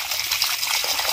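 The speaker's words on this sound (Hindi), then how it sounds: "कहीं पानी है ना वो यहाँ पे तुलसी में डाल रहे हैं" Water from a vessel pours onto a tulsi (holy basil) plant during a Karwa Chauth fast ritual, a brief, steady splashing gush at moderate volume.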